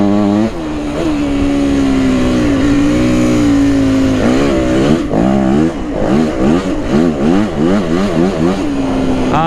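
A Yamaha WR dirt bike engine revving and shifting through warm-up laps on a wooded trail, loud and close, rising from a steady drone into repeated throttle surges and gear changes.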